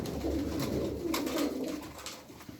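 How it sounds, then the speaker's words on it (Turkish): Sarıkır flock pigeons cooing close at hand, a continuous low throaty rumble of overlapping coos with a few sharper flutters and ticks. "bu yeni kadroda da çok güzel kuşlar var"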